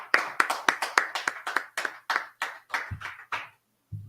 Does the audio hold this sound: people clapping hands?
yes